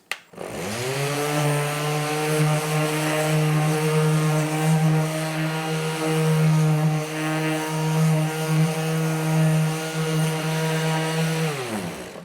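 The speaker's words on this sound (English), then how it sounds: "just use that 80 grit on it first with the original sander" A Milwaukee 5-inch random orbital sander with 80-grit paper runs continuously on wood, giving a loud, steady, even whine that starts at once and winds down at the end.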